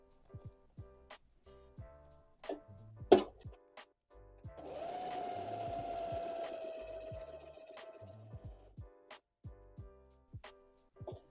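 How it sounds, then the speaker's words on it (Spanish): A sewing machine runs a zigzag stitch with a width between 3 and 4, first in short separate bursts of clicking, then a sustained whirring run of a few seconds, then more short pulses, fairly quiet and close. "quiero mostrarles un zigzag que se puede usar como un efecto bordado"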